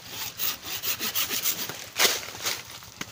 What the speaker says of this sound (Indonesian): Jadi kita pangkas sekitar sini ya dengan gergaji.